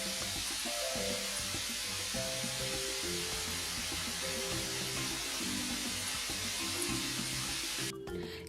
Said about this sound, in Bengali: এখন মাঝারি আঁচে গরম তেলে গোলাটা ঠিক এইভাবে ঘুরিয়ে ঘুরিয়ে ভেজে নিব